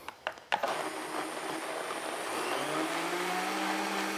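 A blender whirs to life after a few clicks and knocks, then purees a Mexican-style meatball soup sauce, running steadily with a loud, smooth motor roar that rises slightly in pitch.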